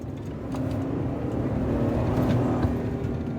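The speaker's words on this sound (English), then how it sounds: "this motor actually sounds pretty good. It sounds very throaty for a V6." 2022 Toyota Tundra SR5 TRD Sport with its V6 under hard acceleration: a steady, throaty engine drone with a slowly rising tone, recorded from inside the cab, no voices.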